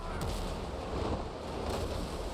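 Ship cannons firing in the game Windrose, a dense rumbling barrage of booming shots rolling together, loud and close, with no voice over it.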